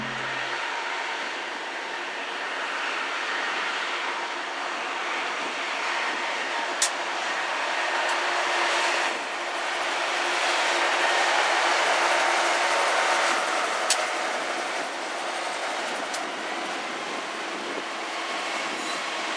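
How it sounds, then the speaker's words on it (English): A BNSF freight train rumbles steadily as it pulls away from the crew change at Needles, Arizona, heading east, with a continuous rolling roar, occasional faint metallic squeals and clicks, and no voices. "Here we see a train departing the crew change at Needles and heading east."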